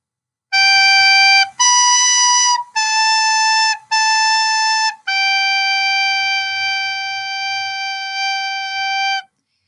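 A recorder plays the third and fourth measures of Au Clair De La Lune as a clear, solo melody of pure whistling tones, four short detached notes and then one long held final note, loud and close.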